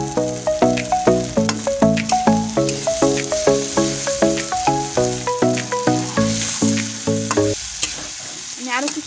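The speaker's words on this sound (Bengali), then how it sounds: "আমি আরও কিছুক্ষণ ভালো করে কষিয়ে নেব ডালটাকে" Moong dal is sautéed and stirred in a pan with quick, rhythmic squeaky scraping strokes and a sizzle under them. The strokes repeat steadily for about seven seconds, then stop.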